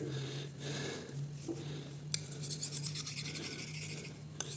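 A knife is honed on a musat honing steel, giving rasping scraping strokes that grow busier and louder in the second half over a steady low hum, with no talking.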